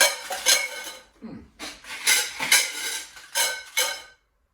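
Several bursts of rattling and clattering as chips are shaken inside a metal can, repeated in loud shakes with brief pauses between.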